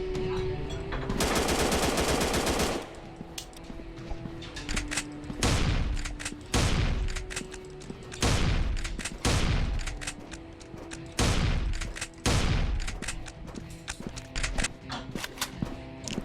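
Rapid machine-gun fire in the video game Machine Hunt, with a long sustained burst early on followed by repeated loud, short volleys, alongside a steady game soundtrack underneath.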